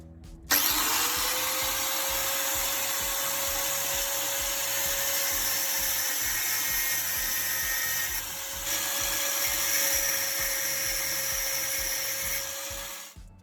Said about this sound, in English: Clamp it in a vise and cut off half of the body.